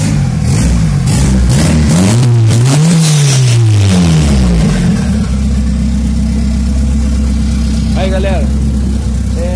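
A Volkswagen Gol engine revs up and down a few times, then settles into a steady, rumbling idle after an idle adjustment, with someone talking briefly at the start.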